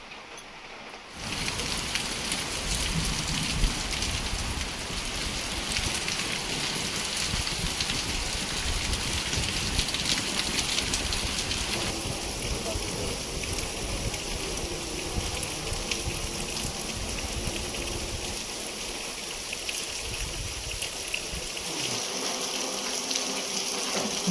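Continuous heavy rain drenching a mountain area, a steady loud broadband hiss of downpour on surfaces that starts abruptly after a second and stays dense and unbroken throughout, with no voices.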